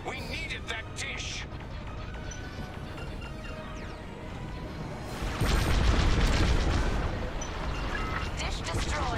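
A destroyed enemy dish explodes in the Star Wars: Squadrons space combat game, a loud rumbling boom swelling about midway and holding over a busy bed of engine noise and effects, with a voice speaking over it.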